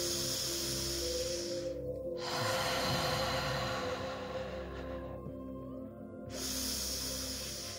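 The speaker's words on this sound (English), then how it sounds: "Take a big breath." A person takes two long, deep breaths during a quiet spiritual meditation, each slow, airy inhale and exhale close and soft against a faint steady background hum, with no talking.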